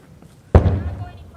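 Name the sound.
explosions near the Gaza border fence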